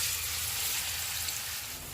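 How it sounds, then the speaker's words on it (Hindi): Sliced onions fry in hot oil for a chicken korma, giving a steady, dense hiss of sizzling that stays close and even throughout, with no voices. "ऑयल गर्म हो गया, इसमें हम प्याज डाल देंगे।"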